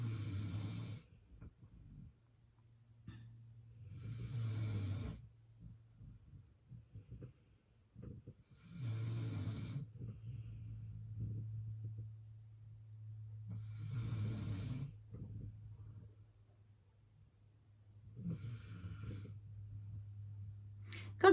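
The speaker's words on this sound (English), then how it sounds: "they're snoring so loud I can't get past it" A sleeping person snores loudly and deeply, with a heavy rasping breath about every five seconds. A faint steady low hum runs underneath throughout.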